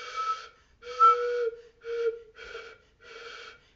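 A beginner flute player's failed, airy attempts come out as five short breathy, whistly tones with rests between them, close and fairly soft.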